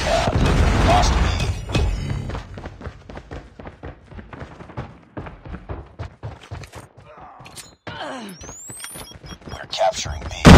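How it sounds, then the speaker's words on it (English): Heavy booms from a predator missile strike in a Call of Duty Mobile domination match open loudly, followed by rapid gunfire cracks and game chatter, with a voice speaking in between. "Friendly predator missile inbound."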